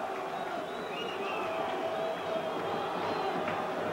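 A football crowd cheering on Taubaté at a 1991 match against Mirassol, heard as a distant, steady roar of stadium voices beneath someone commentator talking.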